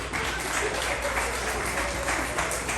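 Audience applause at a live memorial tribute event, sustained dense clapping from a crowd with voices mixed in underneath.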